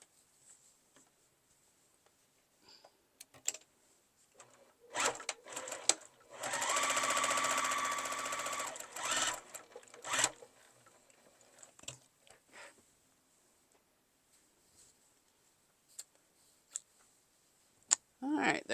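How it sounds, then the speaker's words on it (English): A sewing machine joins two fabric squares for a beginner zipper pouch, a steady close whir of about three seconds set among scattered clicks and taps of handling, with brief talk nearby. "So I'm just going to sew these together."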